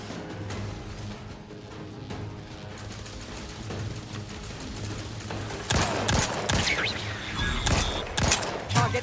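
Gunfire in the video game The Outer Worlds 2, a dense stretch of rapid shots and mechanical clatter that grows louder and sharper in the second half, with game voices speaking over it.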